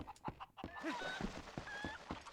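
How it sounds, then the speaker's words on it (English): Faint chicken clucks come in short repeated bursts from a fowl in The Legend of Zelda: Twilight Princess, mixed with light game sound effects and no talking. "Stupid chicken."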